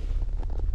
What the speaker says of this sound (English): Oh, it's too windy.